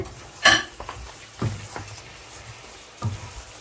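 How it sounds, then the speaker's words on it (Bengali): Beef curry in a pan being stirred after its lid comes off, with a few sharp scraping strokes at intervals over a low, steady background simmer, close and moderately loud with no talking. "ঢাকনাটা আমি উঠিয়ে নিলাম নিয়ে একটু নেড়ে চেড়ে"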